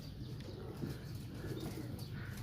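Lakha pigeons in a loft coo steadily in a soft, continuous low murmur, with faint chirps above and no talk.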